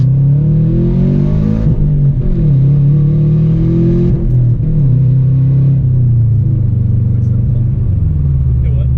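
Turbocharged 2005 Subaru WRX wagon engine pulling hard under acceleration, a loud steady in-cabin drone whose pitch climbs through the gears with brief dips at shifts, close and continuous.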